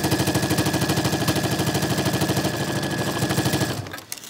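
A sewing machine stitches a fabric face mask in a fast, steady mechanical rhythm for nearly four seconds, then stops abruptly.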